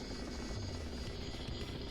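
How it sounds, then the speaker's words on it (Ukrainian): A helicopter in the video game Nuclear Option drones steadily: a fairly quiet, continuous rotor-and-turbine whir with a low throb, no voices over it. "Ну ми вроді би на вертольоті."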